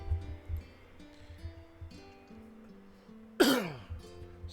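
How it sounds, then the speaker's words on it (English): A single sharp cough from a person with asthma rings out close by near the end, after a stretch of quiet background music. "Excuse me if you hear me coughing."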